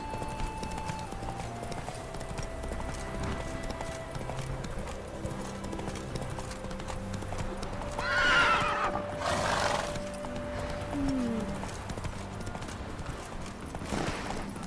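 Roach, the horse in The Witcher 3, clip-clops along with a faint hoof rhythm under game music and ambience, then gives a short neigh around the middle, moderately distant and fairly quiet.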